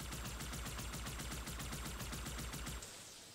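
Rapid automatic gunfire rattles in a fast, even burst in Halo 2 Anniversary as a player shoots a breakable door, then cuts off abruptly, leaving a brief lingering tail.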